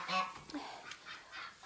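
Geese honk in a few short, nasal bursts inside a farm barn, moderately loud with a slight echo, spaced unevenly through the moment.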